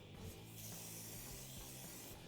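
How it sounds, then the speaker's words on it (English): Short steady hiss of contact cleaner sprayed around the differential seal face of a Can-Am Maverick X3, close up and continuous throughout. "we can take some contact cleaner and we're going to clean around the seal face right here on the differential"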